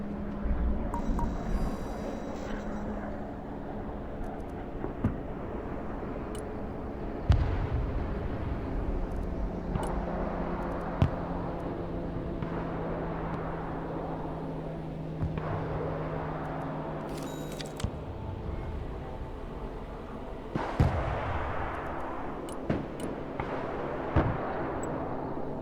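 Cluster bombs from a close air support strike explode in a Baltic war video game, a run of dull booms and rumbling blasts spread over a continuous low drone, with sharper bursts scattered throughout.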